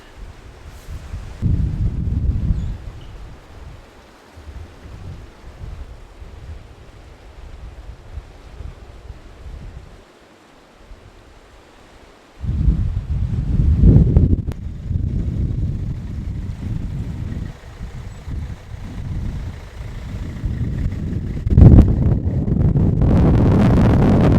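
Strong storm wind batters the outside of a van and a microphone, loud broadband roaring gusts that surge and drop, with a brief lull before the wind returns even harder.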